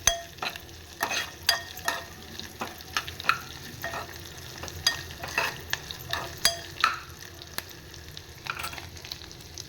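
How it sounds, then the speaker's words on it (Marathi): Bombay duck fish is sautéed in a pan over a raised flame, with sharp, irregular spatula scrapes and taps over a faint, continuous sizzle. "थोडा गॅस मोठा करते मी. बोंबील छान परतून घेते."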